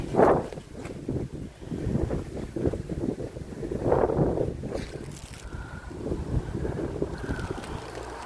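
Strong wind buffets the microphone in heavy, uneven gusts in cold, rainy weather in Wyoming, with a low roar throughout and a few faint whistling tones.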